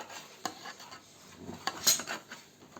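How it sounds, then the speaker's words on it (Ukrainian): A spatula scrapes and rubs against the bottom of a pan while making pizza at home, producing a few sharp scratchy strokes and clinks at moderate volume with no talking. "Так же ж я вмію лопаткою трити."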